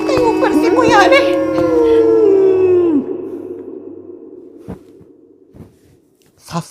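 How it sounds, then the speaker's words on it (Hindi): A dog howls in a long, loud, wavering cry that slides downward and fades out after about three seconds, followed by a few faint knocks and soft sounds. "कुत्ते रो रहा है"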